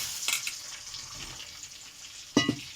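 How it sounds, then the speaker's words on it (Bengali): Potatoes go into hot oil with cumin seeds, giving a soft, close sizzle with two brief louder bursts as they hit the pan. "তো আমি তেলে ফোড়নও দিলাম জিরে তো আলু আছে আলুগুলো তেলে দিয়ে দেওয়া হলো"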